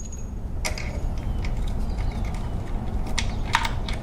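Wrench clicks and metallic ratcheting on oil pan bolts of a Jeep Cherokee 2.4 engine, several sharp taps and rattling clicks scattered over a low steady rumble, close and fairly quiet.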